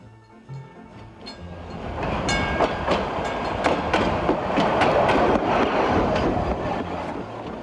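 An old 1920s-era streetcar rumbles along the rails, with rhythmic clicks and clatter building in loudness and a steady rolling roar, no voices.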